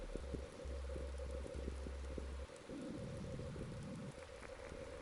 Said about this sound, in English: The quiet days watching the rainfall.